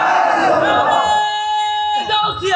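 A large crowd at an Islamic religious gathering chanting Allahu Akbar in answer to the takbir call, heard as a loud, sustained massed shout that fades around two seconds, with a PA-amplified tone lingering under it.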